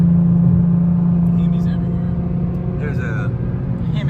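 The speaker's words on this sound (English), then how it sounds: "we're on the highway." A car cruises along a highway: a steady low rumble and road drone from inside the cabin, continuous and fairly loud, with faint voices in the background.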